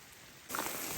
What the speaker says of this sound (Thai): ตอนนี้ฝนกำลังตก